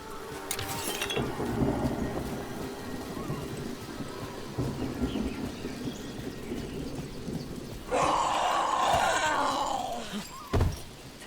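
A thunderstorm with rain in the video game Dragon Age: The Veilguard: low rumbling thunder rolls under steady rainfall, with a louder, brighter burst of storm noise near the end.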